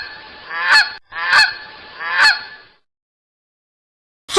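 A goose gives three loud, close honks in quick succession, then a pause before another honk begins at the very end.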